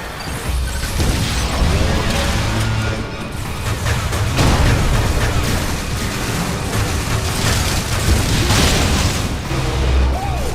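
Missile blasts and heavy impacts from Samus in Metroid: Other M, striking a frozen spot on an enemy: dense, loud booms and crashes with mechanical clanks, repeating throughout with no pauses.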